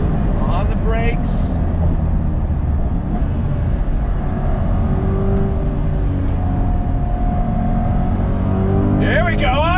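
A 2022 Chevrolet Corvette C8 with a Tremec transmission pulls hard on throttle, its engine droning loud and steady from inside the cabin, with brief voices at the start and end.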